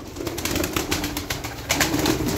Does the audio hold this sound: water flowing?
no